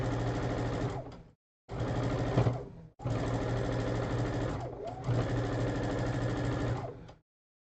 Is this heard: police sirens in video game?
no